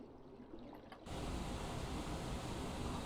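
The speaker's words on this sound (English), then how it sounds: "Oh, that waterfall is going to be loud." A waterfall in the video game Final Fantasy XIV rushes as a steady broadband roar, swelling louder after a second and continuing unbroken.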